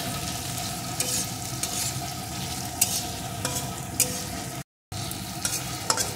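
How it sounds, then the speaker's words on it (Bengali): Chopped tomato is stirred and fried with onions in a pan, giving a continuous close sizzle broken by repeated spatula scrapes and taps, with a short gap of silence near the end. "টমেটো কুচিটাও একটু পেঁয়াজের সাথে নাড়িয়ে নেব।"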